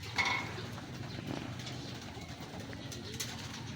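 Racing pigeons coo softly at close range in a loft after a training race, the low murmuring coos repeating over a quiet background.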